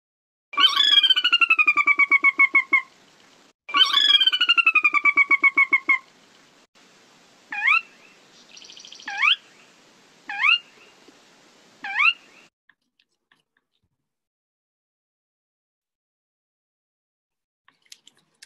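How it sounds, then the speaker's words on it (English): A sora rail in a wetland gives two long descending whinny calls, each a rapid run of notes, followed by several short sharp rising calls, clear and alone against a quiet background. "This is a bird called a sora,"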